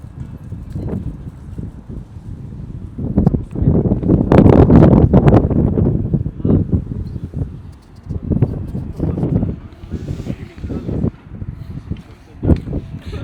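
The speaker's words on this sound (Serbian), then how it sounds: "Duva jak vetar, brate." Strong wind buffets the microphone in heavy, gusting rumbles that surge and fade for the whole stretch.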